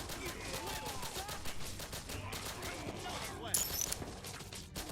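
Rapid bursts of submachine gun fire in Swarm the City: Zombie Evolved crackle steadily amid dense battle noise and game effects, fairly faint, with a voice talking over it.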